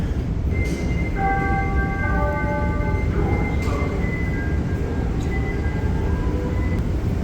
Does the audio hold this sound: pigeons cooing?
no